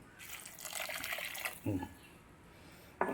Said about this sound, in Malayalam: ഈ കപ്പ് വെള്ളം അങ്ങോട്ട് ഒഴിച്ചോ